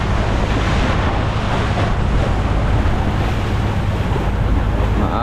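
Rough sea waves wash and splash against a boat out on open water, a constant loud roar mixed with buffeting wind noise on the microphone, with no talking.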